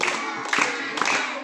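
Children in a Quran learning class clap in a counted rhythm, with three sharp clap bursts spaced evenly apart over a murmur of voices.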